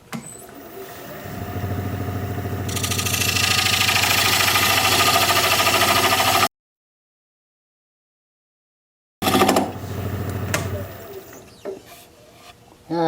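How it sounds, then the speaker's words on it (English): A wood lathe spins an alder platter while a diamond point tool straightens the sides of the tenon, making a loud, steady whirring cut that drops to silence and then briefly starts again. "I'm going to use this diamond point tool to straighten the sides on the tenon."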